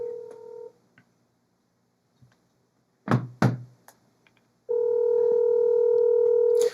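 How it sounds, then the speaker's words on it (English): A telephone number being dialed: a steady tone, then a couple of loud knocks or button thumps, then a long, loud, continuous tone, close and with no talking. "So I'm going to dial up this number and see what happens."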